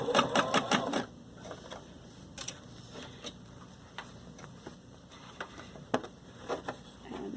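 A sewing machine stitches a sleeve in the round: a dense run of rapid stitching at the start, then sparse ticking clicks and soft mechanical taps over a quiet room.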